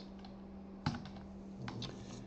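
A few sharp keystrokes on a computer keyboard as local login credentials are typed into Windows. The clicks are close and clear, with one louder tap, over quiet room hum and no talk.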